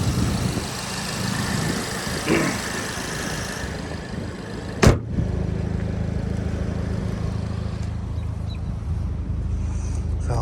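A 2016 Audi S3 with an AWE exhaust and APR software idles in a low, steady rumble, with a single sharp click partway through.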